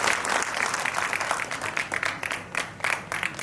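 An audience at the first World Tamil Music Conference claps in sustained, dense applause that stays loud at first, then turns more uneven and patchy toward the end.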